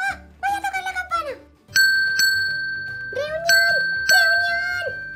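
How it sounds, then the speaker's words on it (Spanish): A bell rung in a real-life Among Us style game with cats, bright ringing tones struck a few times, mixed with excited voices. "¡Voy a tocar la campana!"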